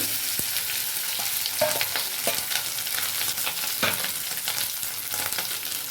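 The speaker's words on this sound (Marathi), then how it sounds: "मिरच्या छान परतल्यात आपल्या मिरच्या परतल्याच्या नंतर आपल्याला बटाटा टाकायचा त्याच्यामध्ये" Green chillies and potato fry in hot oil for a fasting snack, giving a steady close sizzle broken by intermittent scraping and stirring clicks from a spatula, with no talking.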